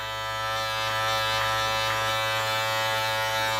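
An electric beard trimmer fitted with a 9 mm guard buzzes continuously and close by, a steady high-pitched motor hum with slight variations as it passes over the beard.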